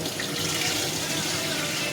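Lentils for dal are rinsed in water in a kitchen pan, giving a steady, close splashing and running-water wash with no pause.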